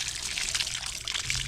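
Running water splashes over freshly picked garden produce being rinsed, a steady close hiss and trickle with no talk.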